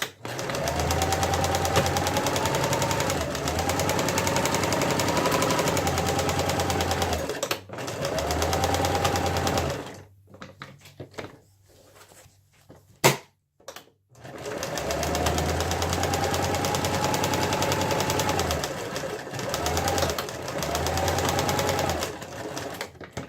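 A sewing machine stitching around the edge of a fabric art pouch runs in long steady whirring bursts with a quiet pause in the middle, close and fairly loud.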